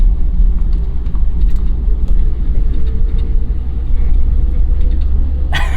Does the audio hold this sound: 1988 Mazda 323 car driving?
yes